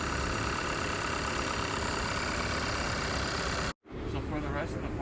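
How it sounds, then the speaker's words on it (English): A car engine idles steadily with dense broadband noise, cuts out abruptly for a moment as one cylinder is disconnected in a power balance test, then resumes at a lower, rougher idle. "when we disconnect this cylinder, the engine idles down"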